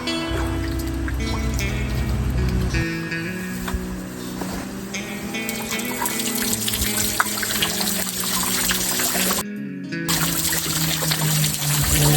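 A strong spring gushes at the side of a bathing pool, a loud, continuous rush and trickle of flowing water with a brief break near the end.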